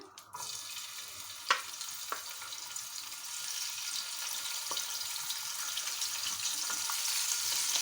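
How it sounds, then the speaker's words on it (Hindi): Onions sizzle in two tablespoons of oil on a hot tawa, a steady close frying hiss that swells slightly, with a few sharp clinks early on and no talking. "अब हम इसमें ऑयल डालेंगे 2 टेबल स्पून, प्याज डालेंगे"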